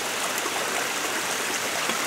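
A small waterfall on a hillside stream beside an abandoned farm road in Japan gives a steady, close, full rush of splashing water with no pauses and no voices.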